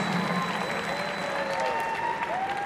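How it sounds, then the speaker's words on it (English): Sustained crowd applause at a live boxing event in San Angelo, Texas, for both fighters after the bout, a steady dense clapping that fills the whole stretch with crowd noise. "big round of applause again for both these fighters."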